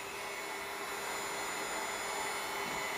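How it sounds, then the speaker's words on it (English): A steady, loud whirring blast of blowing air with a constant motor whine, running unbroken throughout with no pauses. "so I'm just taking my heat gun"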